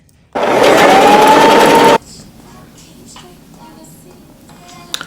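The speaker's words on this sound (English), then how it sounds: "Now we're going to clip everything together and sew it." A sewing machine stitches fabric for an off-the-shoulder spring top in one loud, steady burst of about a second and a half, then stops, leaving quiet room sound with a few faint handling noises.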